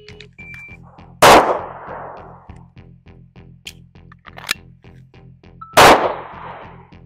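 A SIG P320 pistol fires steel-case ammunition outdoors, two sharp loud shots several seconds apart, each followed by a short ringing decay, with faint steel target clangs and low background hum between them.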